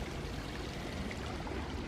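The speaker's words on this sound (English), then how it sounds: "There's a few rocks down there, and when the water flows over them, it certainly sounds nice" Creek water runs steadily over rocks, a continuous broadband rush and babble that holds an even level throughout, fairly close and with no voices over it.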